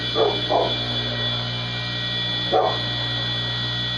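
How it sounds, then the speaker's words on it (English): A dog barks three times at moderate distance, two quick barks then a single one after a pause, over a steady electrical hum in a workshop where beehive boxes are being built. "The dog. Heard me talking."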